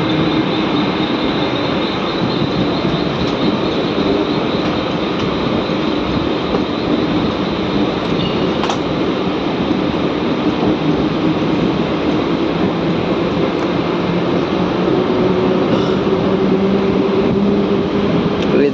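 A Konkan Railway train runs between Chiplun and Mumbai, heard from inside as a constant loud rumble with wheel rattle and occasional faint squeals across the whole stretch.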